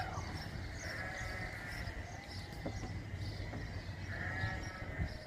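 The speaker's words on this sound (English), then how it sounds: "sheep." Sheep bleat a couple of times at a moderate distance over a steady, low outdoor rumble, with no talking.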